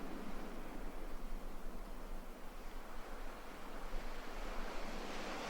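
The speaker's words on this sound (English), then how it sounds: "As the sound of the waves continue, you find a comfortable place to rest beneath a palm tree." Ocean surf rolling onto a Bali shore at dawn, a steady broadband wash of breaking waves with a low rumble beneath, continuous and fairly even, with no voices.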